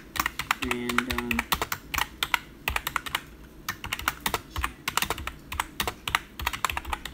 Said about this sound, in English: I'm doing more typing than playing.